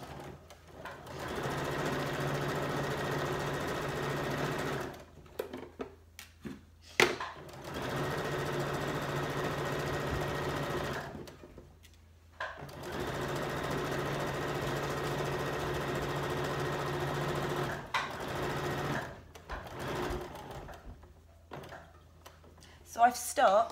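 A home sewing machine stitches a cushion cover seam, running in steady mechanical bursts of several seconds separated by short pauses, with someone talking quietly in the gaps.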